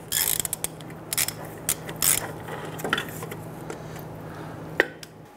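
A ratchet works on the lower shock absorber bolt of a 2002-2008 Dodge Ram 1500, giving short bursts of rapid metallic clicking with pauses between strokes, close and moderately loud, with no talk.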